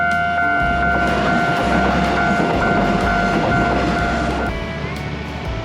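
A train rolls through a level crossing on the coastal line at Baishatun, Tongxiao, Miaoli: loud, close rumbling and clattering wheels while a sustained horn or crossing tone sounds through most of the pass.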